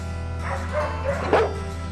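Pit bull at an animal shelter lets out a couple of barks and a whimpering yelp, close and loud over a steady background hum.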